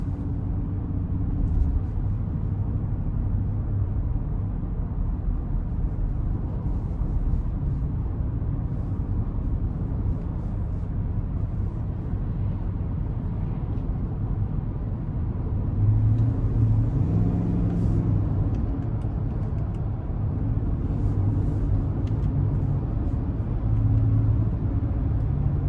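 Steady low rumble of a 2022 GMC Yukon SLT's 5.3-litre engine and road noise from inside the cabin while driving, continuous and moderately loud with a slight swell in engine note partway through.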